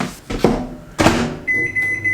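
Microwave oven running on high, with a couple of clunks of the door and handling before a steady tone sets in, loud and close.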